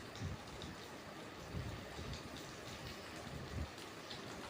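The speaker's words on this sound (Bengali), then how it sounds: "ফ্রাই হচ্ছে সুন্দর করে।" Egg-dipped bread frying in a pan gives a faint, steady crackling sizzle with a few soft low bumps, and no one speaks.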